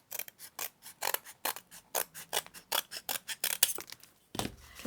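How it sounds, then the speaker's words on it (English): Scissors or a blade cut through fabric along a ruler to make a 1½-inch junk journal spine, a rhythmic series of close, rasping snips at a steady pace. "we just cut it down to the width of the ruler"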